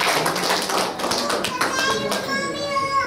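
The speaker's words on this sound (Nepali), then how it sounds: "हामी सबैलाई जोरदार ताली" Applause from a church congregation at a Sunday service, a dense wash of clapping that holds steady for about three seconds, fairly loud and close, with a few children's voices mixed in.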